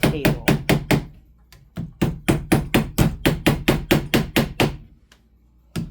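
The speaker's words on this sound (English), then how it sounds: "this hammer we can use to hammer nails down on through the foam and onto the table" Hammer strikes driving nails through foam into a tabletop while installing track on an HO scale model railway layout: two quick runs of sharp, evenly paced knocks, loud and close, with brief pauses between the bursts.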